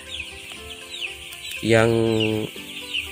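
Broiler chickens in a large coop cluck and chatter continuously, and one bird lets out a louder, drawn-out call partway through, with a brief voice briefly audible.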